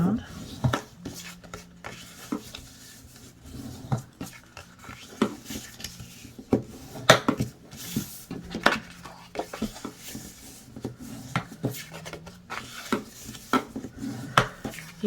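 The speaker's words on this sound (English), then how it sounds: "go ahead and burnish your score lines" A bone folder or similar tool burnishing score lines around a paper gift box: repeated short rubbing and scraping strokes, close and fairly quiet, with occasional soft taps, under intermittent speech.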